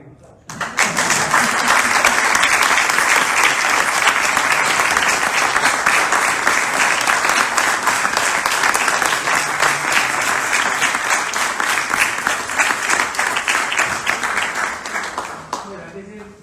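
A large audience at a school graduation ceremony breaks into sustained applause, loud and even for about fifteen seconds before tapering off.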